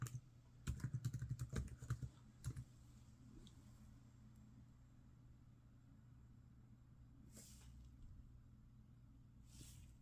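Keys clatter on the keyboard of a 2GB HP Stream 11 laptop as a password is typed, a quick close burst of clicks followed by a quiet hum and a few faint later taps.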